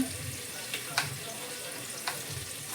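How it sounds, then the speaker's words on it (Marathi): Green chillies and onion frying in ghee with cumin and mustard seeds in a pan, a soft steady sizzle with a few brief stirring clinks, fairly faint. "दोन मिरच्या आता कांदा हे थोडंसं छानपैकी मस्त भाजून घ्यायचं"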